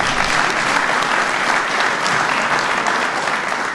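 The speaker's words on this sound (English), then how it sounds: "Give him a round of applause anyway." Large audience applauding at a fatherhood event, a dense, loud, steady wash of clapping hands with no breaks throughout.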